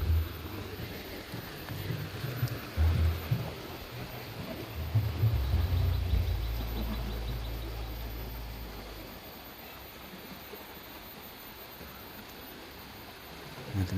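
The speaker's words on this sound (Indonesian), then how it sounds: "sungainya juga cukup deras ya" A fast-flowing river at the Batu Kapal tourist site gives a steady, loud broadband rush of water, with a deeper rumble swelling in the first half before settling into a constant roar.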